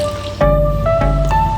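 Milk is poured into sour yogurt in a bowl while vegetable biryani is being made, with a short, close liquid trickle and some soft dripping, splashing sounds.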